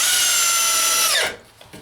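A Bosch DDB181 compact 18-volt drill/driver whines at high speed driving a 3-inch drywall screw lengthwise into a 2x4, then winds down abruptly and stops, close and loud with no talk.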